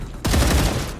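A sudden burst of rapid gunfire erupts from a weapon in StarRupture, loud and close, sustained for under a second after near silence.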